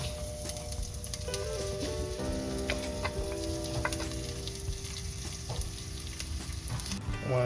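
Garlic sizzles and crackles steadily in olive oil in a pan, cooking for Filipino pinakbet, with a continuous close frying hiss, light stirring ticks, and faint tonal kitchen sounds running beneath.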